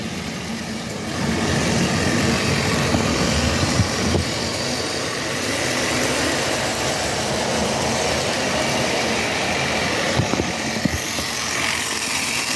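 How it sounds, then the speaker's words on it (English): A toy Power Trains locomotive runs at slow speed pulling a long line of rolling stock, producing a loud, steady motor whir with rattling wheels and track clatter that starts abruptly and continues throughout. "I'll go ahead and I will start the locomotive. Here we go. I'll have it run on the slow speed."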